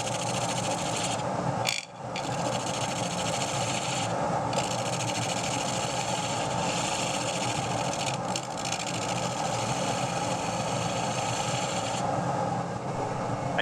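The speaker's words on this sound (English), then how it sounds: "I use a small round carbide tool to shape the area around the hole." A small round carbide tool steadily rasps and shapes wood around the handle hole of a custom Aurora shaving brush, giving a continuous, close, scratchy grinding with one brief pause.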